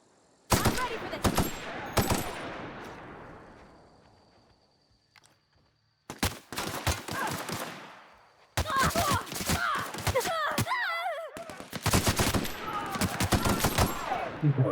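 Gunfire from a weapon in The Outer Worlds: sharp bursts of rapid shots in several clusters, each ringing out and trailing off, with pauses between volleys and a voice briefly heard among the later bursts.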